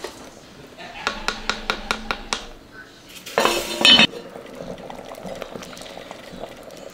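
Clam chowder with potatoes bubbles in a lidded pot, a steady simmer running under a quick series of metallic clinks and a brief burst of louder rattling, while a person talks.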